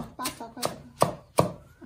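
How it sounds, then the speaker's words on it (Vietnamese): Vegetables being chopped for pig feed at a rural home, four sharp knife strikes on a board at a steady beat, close and clear with faint background voices. "chị đang băm rau"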